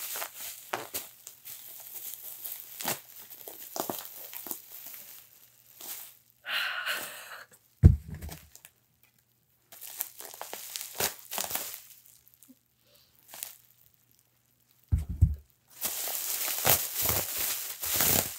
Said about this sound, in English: The bubble wrap is taped up, guys.